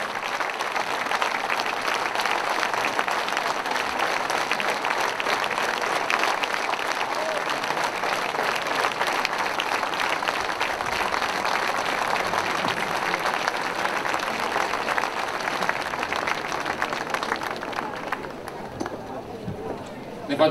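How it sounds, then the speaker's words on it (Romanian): An audience at an outdoor summer music festival stage in Piatra Neamț applauds a string group returning for an encore, with dense sustained clapping throughout that fades slightly at the end. "Se aplaudăm pentru că revin și ne vor bucura cu un bis."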